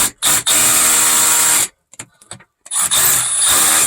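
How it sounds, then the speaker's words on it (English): Hammer drill boring into silver ore rock inside an abandoned mine, a loud, harsh grinding roar in two long bursts separated by a brief pause with scattered knocks. "Sure, we can try the drill."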